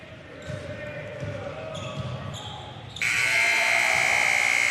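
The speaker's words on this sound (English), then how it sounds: "Triton Jackson, just before the buzzer hits the two" Basketball game buzzer at a high-school invitational between Central and Ozark, a loud sustained electronic tone sounding in the second half over crowd noise and commentary.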